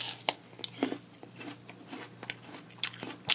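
Someone bites and chews a crunchy Cosmic Crisp apple close up, sharp crisp cracks followed by softer irregular crunching and chewing, with a faint steady hum beneath.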